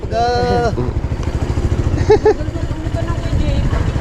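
A slow-moving Sniper motorcycle on a group ride runs its engine in a steady, close, low pulsing chug, with people talking over it.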